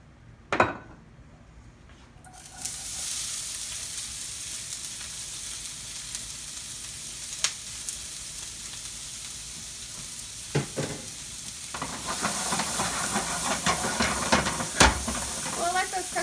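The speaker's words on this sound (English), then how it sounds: "we're going to take some onions and we're going to saute them in some olive oil" Onions sautéing in olive oil in a pan, a steady close sizzle that swells after a sharp start, with occasional clinks and scrapes of stirring.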